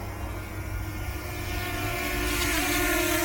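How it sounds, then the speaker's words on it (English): A DJI Mini 2 drone flies nearby, giving a steady, fairly loud whirring buzz that swells slightly toward the end, with no talking. "the world's quietest drone"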